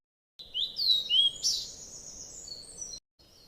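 A mother bird's call voiced by an old man in an animated moral story: a few bright, rising chirps and whistles over a steady low background, close and fairly clear, with no talking.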